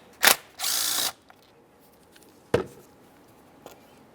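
A ratchet loosens a 13mm mounting stud on the air inlet tube of a 2013-2020 Ford Fusion 2.0L engine: one sharp click, a half-second rasping whir, then a few isolated clicks in a quiet space with no talking.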